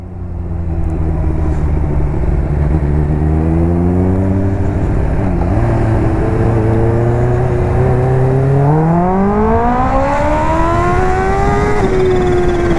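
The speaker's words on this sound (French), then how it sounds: "Quelle erreur de réaccélérer en première." A Kawasaki H2 motorcycle re-accelerating hard in first gear, a loud, close engine drone that dips briefly then climbs steadily in pitch over several seconds, sustained throughout with no voices.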